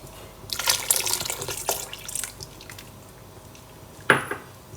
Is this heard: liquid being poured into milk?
yes